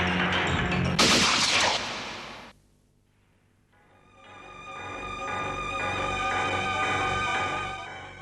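A burst of loud, close gunfire in a TV drama scene, followed by a short lull and then sustained dramatic music.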